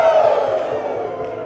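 Audience at a franchise awards event lets out a loud, sustained Ric Flair-style "woo" shout, a crowd cheer that fades over a second and a half; the two claps are not distinct.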